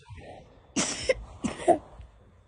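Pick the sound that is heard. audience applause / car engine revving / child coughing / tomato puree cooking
child coughing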